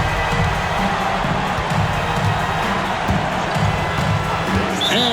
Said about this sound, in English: And that bucket ignites the crowd.